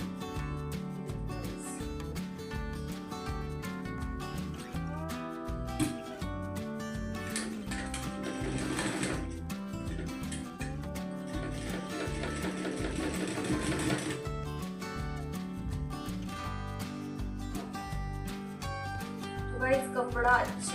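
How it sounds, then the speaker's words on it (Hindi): A sewing machine stitches the shoulder seam of a suit, running in steady rapid bursts of mechanical clatter throughout, close and continuous with brief pauses between runs. "अभी शोल्डर स्टिच करती हूँ।"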